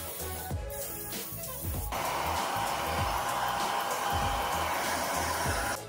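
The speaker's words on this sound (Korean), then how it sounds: "드라이기로 마무리해주세요" A hair dryer roars steadily at close range, its loud continuous blowing starting abruptly and holding for several seconds.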